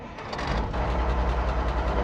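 A truck engine in the video game Alaskan Road Truckers turns over and settles into a loud, close idle with a steady low throbbing pulse.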